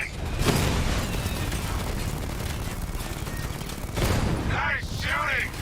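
Sustained gunfire in Batman: Arkham Knight, a dense rattling fusillade with booming impacts throughout, rising again near the end under brief voice-like sweeps.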